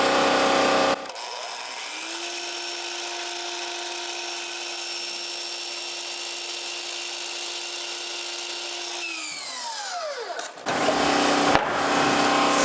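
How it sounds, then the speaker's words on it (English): A miter saw spins up and whines as it cuts wood trim at an angle, a steady motor tone held for several seconds before winding down, with louder workshop noise at the start and end. "I like to make these cuts on the miter saw."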